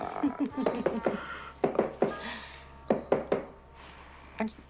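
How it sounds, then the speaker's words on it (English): Knocking on a door comes in irregular clusters of sharp raps, fairly close, under and between voices talking over a low steady hum. "they're knocking on the wrong door"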